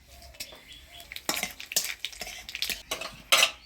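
Black cumin seeds and dried chillies tempering in hot oil in a village kitchen, heard as scattered clinks and scrapes of a spoon stirring in a metal pan over a faint sizzle, with one sharper clang near the end.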